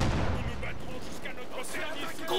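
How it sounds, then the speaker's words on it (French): An anti-tank gun fires during battle in Company of Heroes 2, a dense, continuous rumble of booming gunfire with sharp cracks scattered over it, loud and sustained throughout. "Un canon anti-char tire sur nous."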